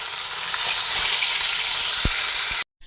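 Pieces of bhola fish fry in hot oil in a pan, giving a steady, close, dense sizzle that runs without a break for about two and a half seconds and then cuts off abruptly to silence.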